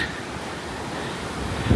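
Strong wind rushes steadily across an exposed rocky ridge overlook, buffeting the microphone with a constant broadband roar and a gust near the end.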